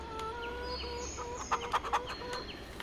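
Chickens in Farming Simulator 25 clucking softly in the background of a farmyard, with a brief cluster of sharper clucks and chirps partway through, fairly quiet and steady.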